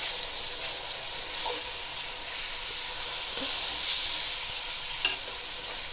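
Minced meat fries in a pan with sautéed onions, giving a steady, soft sizzle and hiss throughout, with occasional faint stirring clinks and one sharper scrape near the end.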